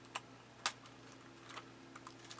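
Keys clacking on a repaired Amiga 500 keyboard, a few sparse, distinct taps spread out over a quiet background hum, close and fairly soft.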